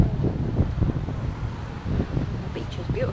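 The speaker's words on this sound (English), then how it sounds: "It's just very windy." Strong wind buffets the microphone at a sandy beach in Las Palmas, Canary Islands, a steady low roar with gusting rumble throughout and no speech.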